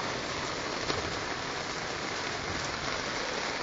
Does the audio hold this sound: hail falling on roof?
yes